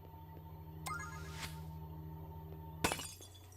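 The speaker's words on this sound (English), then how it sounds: "and immediately we hear glass breaking." Glass shatters twice in the video game Phoenotopia: Awakening, right after a crystal is taken: a crash near the start and a sharper, louder break later, over a quiet musical drone.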